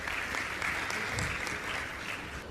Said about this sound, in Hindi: आप लोग जोरदार तालियां बजाते रहें जब तक ये सम्मान